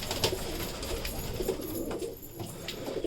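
Soft pigeon cooing repeats in low, rolling phrases close by, against a faint steady background hum with no talking.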